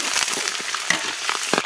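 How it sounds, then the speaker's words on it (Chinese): Ginger and chili crackle in hot oil in a wok, a loud close sizzle with quick popping spatters over a short burst. "锅里加点油，放入姜和辣椒爆香"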